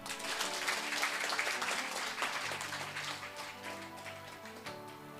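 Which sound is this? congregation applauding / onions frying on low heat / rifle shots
congregation applauding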